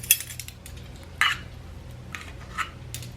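Metal measuring spoon clinking against a bowl or tin while baking powder is scooped for a double batch of pumpkin bread, a few light taps and scrapes, close and fairly quiet.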